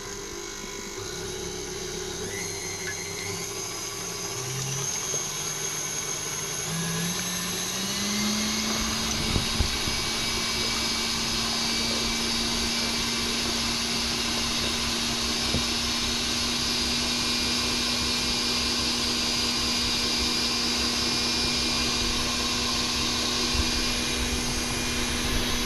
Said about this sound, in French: Donc on allume le robot tout doucement.